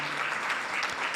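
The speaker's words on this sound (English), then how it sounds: "a round of applause for them" A seminar audience gives a round of applause, a dense, steady wash of many hands clapping together without a break, fairly loud and filling the whole short moment.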